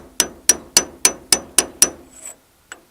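Seven sharp metallic taps in a steady rhythm drive a power steering shaft seal down with a 7/8 socket on a Farmall International tractor, followed by a faint scrape and one last light tap, close up with no talking.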